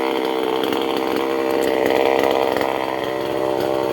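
A chainsaw roars continuously while cutting through dense, overgrown jungle-like brush, the engine note holding loud and close for the whole stretch with slight surges as it bites.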